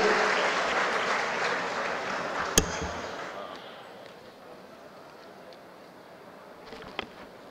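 An audience claps to welcome Venkaiah Naidu at the Smart City Summit in Raipur, marking 150 years of the municipal corporation. A dense round of applause fills the hall for about three seconds, then fades away, with a sharp knock partway through.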